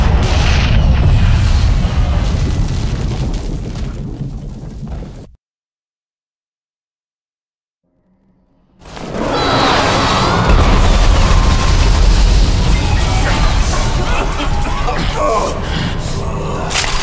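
Booming explosions from tanks blowing up in the shooter video game Bulletstorm, loud and dense for several seconds, cutting to silence, then returning as another sustained roar of blasts and debris.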